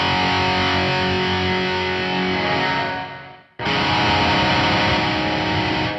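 A heavily distorted electric guitar plays through a Laney Ironheart tube amp plugin with reverb, giving a loud, dense sustained tone that drops out briefly and then comes back at full strength.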